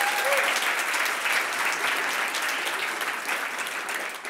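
Loud, sustained audience applause at a tech startup demo day, dense clapping holding evenly throughout with a faint voice at the very start.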